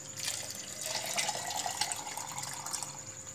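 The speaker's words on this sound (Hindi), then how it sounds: "अब इसमें पानी," Water poured into a bowl of falsa fruit and sugar for a sharbat drink, a steady close splashing trickle that runs for a few seconds with no voices.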